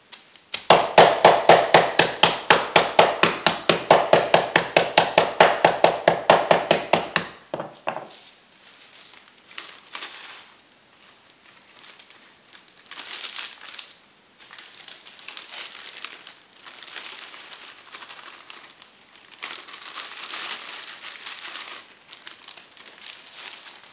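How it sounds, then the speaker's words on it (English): A homemade hand pepper grinder cranks through black pepper, giving a rapid, even train of close clicks for about seven seconds before it gives way to softer rustling and handling sounds. "some black pepper in our homemade pepper grinder"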